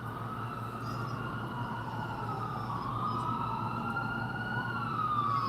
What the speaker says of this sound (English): we still hear the ambulance though